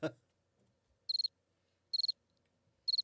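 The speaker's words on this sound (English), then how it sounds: "Where's the crickets? Yeah. We need crickets." Cricket chirping sound effect: three short, bright bursts of rapid chirps spaced about a second apart against near silence, clear and close, after one brief low thump at the start.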